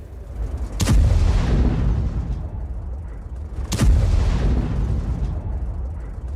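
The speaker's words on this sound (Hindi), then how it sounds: "कैसे बड़ी बड़ी इमारतों को आईडीएफ ने एयर स्ट्राइक करके उड़ाया" Airstrikes destroying large buildings in Lebanon produce two heavy, deep explosions about three seconds apart. Each begins with a sharp blast and then a long rumbling roll, loud and alone.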